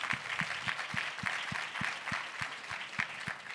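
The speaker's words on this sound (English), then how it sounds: "Clap for that, please." An audience at a talk on reparations claps along in a steady rhythmic beat, with even, regular claps over a softer wash of mixed clapping, moderately distant.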